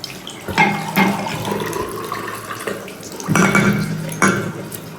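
Items are rinsed under a running tap, with a steady stream of water splashing nearby and a few louder bursts of splashing and clattering.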